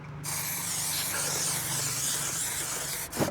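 An aerosol spray can sprays at close range in one continuous hiss for about three seconds, then cuts off sharply, while a ceiling is fitted in a campervan.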